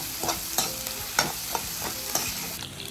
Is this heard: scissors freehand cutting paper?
no